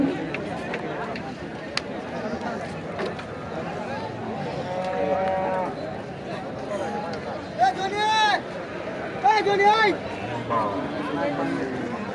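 Cattle at a crowded market before Eid moo loudly in several drawn-out calls, standing out over a steady din of crowd chatter and movement.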